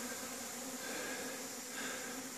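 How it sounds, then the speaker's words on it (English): Honeybees buzz steadily around a bee yard on a spring day, a continuous hum with a faint hiss, fairly close and unbroken, with no voices. "Lots of bees for the spring."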